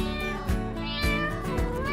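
A kitten mews repeatedly at close range, with several short, bright, rising-and-falling cries in quick succession and no other sounds around it.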